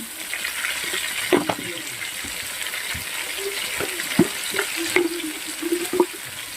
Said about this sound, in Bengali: সামান্য লবণ আর হলুদ দিয়ে আলুগুলোকে ভেজে নেব লবণ দিয়ে দিলাম